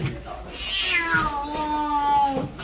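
A cat meows in a long, drawn-out cry that rises and then slowly falls, heard close up inside a home during a cleanup with low background noise.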